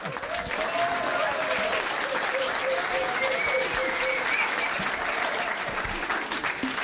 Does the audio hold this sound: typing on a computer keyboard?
no